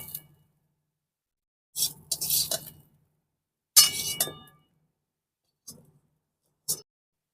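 Soy-sauce-coated noodles are tossed in a pan with fried onion and garlic, heard as a few short bursts of scraping and clinking utensil sounds separated by quiet gaps.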